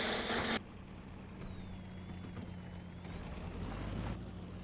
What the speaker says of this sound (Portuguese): Vou botar o carro pra esquentar.